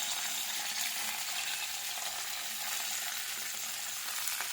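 Spices and curry leaves fry in hot oil in a pan, giving a loud, dense, steady sizzle with crackling that continues throughout without any break.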